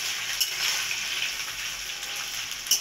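Dried fish, shutki, frying in a pan over a low gas flame, a steady bright sizzle with faint crackles throughout, close and continuous with no voices.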